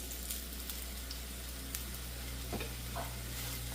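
A moong sprouts chilla sizzles steadily in oil on a hot pan, a continuous close frying hiss with a few faint pops and clicks scattered through it, no voices.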